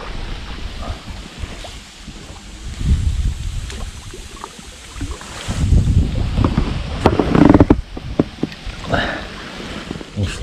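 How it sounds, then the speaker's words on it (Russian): Wind gusts outdoors on open water while pike fishing from a boat, buffeting the microphone with loud, rumbling surges that rise and fall, joined by faint water sloshing and occasional knocks. "Сплыть неудобно, ветер дует."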